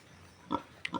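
A sow grunts a few short times up close, two or three brief bursts separated by quiet.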